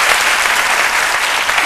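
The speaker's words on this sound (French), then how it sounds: "Il peut avoir droit à des applaudissements." Loud, close applause from a gathered audience at a French talk event, a continuous dense wash of clapping from start to finish with no speech.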